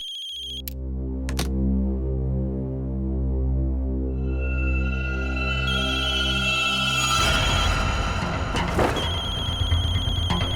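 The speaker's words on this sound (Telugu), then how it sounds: "Phone ring అవుతోందేంటి?" A mobile phone rings with a steady, loud electronic ringtone of layered sustained tones that runs for several seconds, then turns busier and noisier near the end, with no voices.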